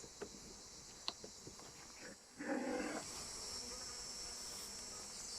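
Steady honey bee buzzing around a hive, with a louder swell midway and a few soft clicks and knocks early on.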